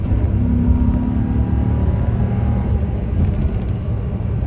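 A car's 4.6 engine revs steadily toward 4,000 RPM, a loud, continuous low drone that holds at a near, even level throughout, with no voices over it.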